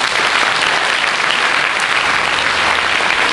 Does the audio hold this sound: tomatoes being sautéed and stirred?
no